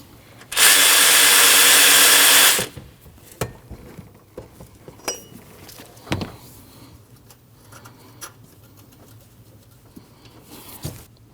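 Power tool whirring loudly for about two seconds while removing a 14mm top alternator bolt on a Nissan NV2500 5.6L V8, followed by faint clinks and taps of metal parts.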